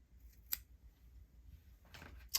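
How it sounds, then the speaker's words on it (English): Scissors snipping the yarn tails of a crocheted peppermint stick ornament, two quick, faint close snips about a second and a half apart in an otherwise quiet room. "So then I'll just trim these here"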